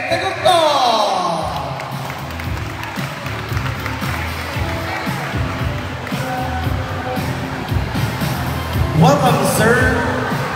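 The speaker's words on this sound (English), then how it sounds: "Let's give a round of applause to our second judge, Mr. Bebe Tegoktok." An event audience at a trashion show opening in Bohol claps and cheers for a judge: a broad wash of clapping and crowd noise with whoops, heard under an announcer's amplified voice, swelling again near the end.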